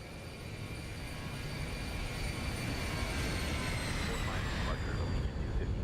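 A simulated Boeing 737-800 climbs out after takeoff in X-Plane 12, with a steady engine roar and several high whining tones held close and even.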